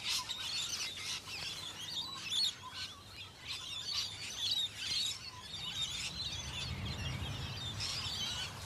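Gaudy green birds with leaf-like shapes calling in an Australian suburb, repeated high chirps and tweets in quick bursts over a soft background, fairly faint and with no voices.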